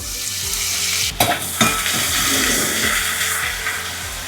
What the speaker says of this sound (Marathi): तेल तापलेलं आहे आपण पहिल्यांदा जिरं टाकूया